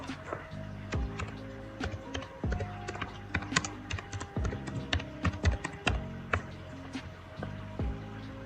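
Rapid clicking of keys on a computer keyboard, an uneven stream of taps close by, with faint background music underneath.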